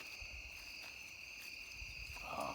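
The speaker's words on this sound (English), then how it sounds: "You can listen to all the crickets." Crickets chirp steadily through a nighttime walk outdoors, a dense, continuous insect trill with several overlapping high-pitched bands that hold constant from start to finish, accompanied by soft low rustling and a brief burst of brighter noise near the end.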